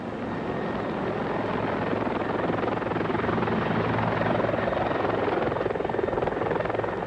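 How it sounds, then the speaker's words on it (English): A military helicopter flies nearby, its rotor chop and turbine roar forming a steady, dense drone that swells slightly louder midway and stays constant throughout. "Jaegers utilize helicopters as ideal insertion aircrafts."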